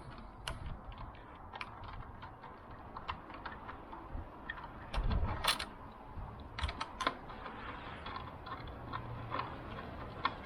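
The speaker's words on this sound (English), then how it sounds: "I'm gonna start by taking these two bolts out." A Honda Grom motorcycle has the bolts removed from its front fender, giving a run of close, crisp clicks and ratcheting taps with a few louder metallic knocks partway through, and no one speaking.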